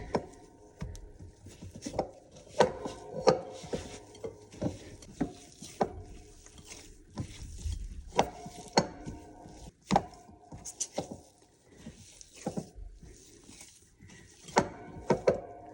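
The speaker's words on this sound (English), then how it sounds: "And just go by hand to integrate the remaining ingredients." Hands mix mango, apricot and sourdough ingredients in a bowl, making irregular sticky squelches, taps and knocks at close range.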